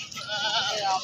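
Goats bleating at a busy livestock market, a few overlapping, wavering cries close by over a murmur of crowd noise and bargaining, with the calls swelling through the short stretch.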